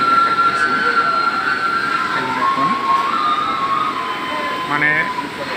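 A Hikari 9V plain industrial sewing machine runs continuously with a steady mechanical whir and hum, a loud, unbroken drone carrying a tonal whine throughout.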